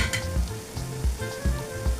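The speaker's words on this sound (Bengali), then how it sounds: "পেঁয়াজটা দিয়েও একটু ভাজা ভাজা করে নিচ্ছি" Chopped onion frying in oil with ginger, garlic and green chili for dal, a close steady sizzle broken by rhythmic scraping stirs of a spatula against the pan, with no voices.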